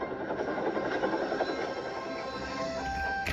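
Thomas the Tank Engine, a small steam tank engine, races along the rails toward the docks, a steady rolling clatter of wheels on track carrying on without a break, close and fairly loud, with a brief squeal near the end.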